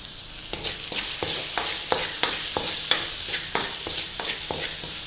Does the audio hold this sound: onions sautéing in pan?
yes